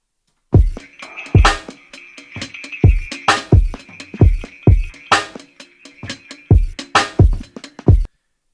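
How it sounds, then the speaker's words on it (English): A programmed drum beat: punchy kicks and sharp snare hits in a steady groove, with a ticking hi-hat loop and light Foley percussive texture layered on top. "a snare from the Maxwell kit on Splice, some Foley loops, a hi-hat loop"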